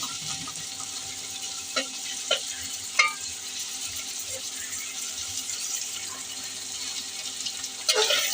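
Ingredients for a ridge gourd and shrimp curry frying in a pan, a low steady sizzle with a few distinct stirring scrapes and clinks spaced apart, close up with no talking.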